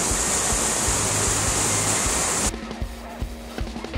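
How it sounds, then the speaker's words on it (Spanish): A waterfall in the Pizarros canyon roars as a loud, steady broadband rush, cutting off abruptly partway through to quieter background with faint taps. "lindísimo la cascada"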